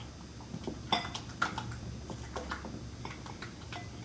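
Shrimp cocktail sauce is mixed with mayonnaise in a bowl, giving soft scraping and several light clinks of a utensil against the bowl over a low background hum.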